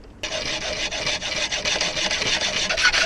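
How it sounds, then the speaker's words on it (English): Steel bolts clamped in a small vise are cut down with steady, continuous rasping strokes, loud and close, running without a break after a short quiet start. "try and cut these bolts down"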